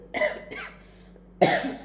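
Two or three short, harsh coughs close to the mic from someone with a heavy, days-long cough, separated by a brief quiet pause.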